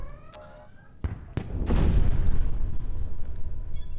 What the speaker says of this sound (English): So, there we go. Big explosion.